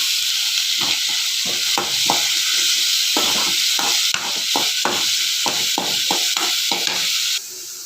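Large onions frying in a pan until brown, giving a continuous loud sizzle broken by a rapid series of scraping stirring strokes close up, cutting off abruptly near the end.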